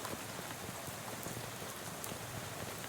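Steady rain pours down in the video game Shadows Over Loathing, a dense, even hiss of drops close by that fills the whole moment without a break.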